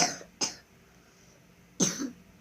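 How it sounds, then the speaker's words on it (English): Three harsh coughs close by: two in quick succession, then a pause before a third, with quiet in between. "Golly gosh, it's a bad cough."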